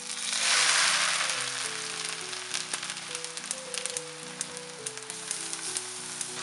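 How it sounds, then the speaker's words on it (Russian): Steady sizzling of onion and grated carrot frying in oil, a bright crackling hiss with scattered pops, while a soft tonal melody plays underneath. "Здесь у меня лук жарится."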